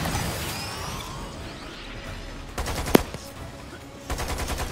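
Rapid machine gun fire in a first-person shooter video game mission, sustained bursts with a sharp bang near the middle and a fresh dense burst toward the end, loud and close amid the game's ambient noise.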